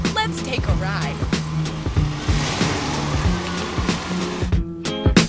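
A car on the road, driving steadily with a rumbling engine and some rough broadband road noise under it, with short clicks and knocks throughout.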